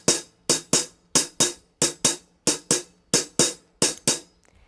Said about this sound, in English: So this is what you call a shuffle beat